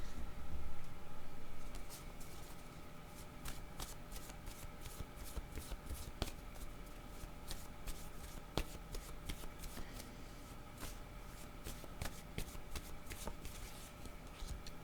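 Oracle cards are shuffled by hand, close and fairly quiet, making a continuous papery riffle with frequent crisp snaps and taps over nearly fifteen seconds, with no talking.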